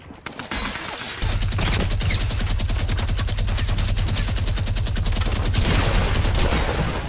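Rapid automatic gunfire in the video game Fortnite rattles in a loud, continuous burst of closely spaced shots, with a short lead-in of scattered noise before the firing starts.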